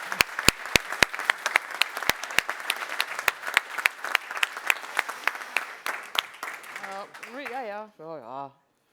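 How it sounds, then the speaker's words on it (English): An audience claps for Maya at the Neos Con 2024 awards, with sharp, close individual claps over steady applause lasting several seconds, then voices talking briefly at the end. "A big applause for Maya, please."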